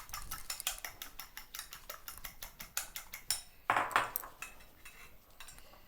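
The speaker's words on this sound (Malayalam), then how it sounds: "ഒരു ഫോർക്ക് കൊണ്ട് മുട്ട ബീറ്റ് ചെയ്യുക" Eggs are beaten with a fork in a bowl, a quick irregular run of light metallic clicks and taps against the dish, close and fairly quiet, with no one speaking.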